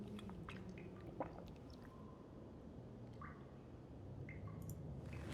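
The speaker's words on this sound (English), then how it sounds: "Drink some water." Drinking water in The Long Dark video game: quiet wet gulping and liquid squish sounds over a low ambient background, faint and close, with no talking.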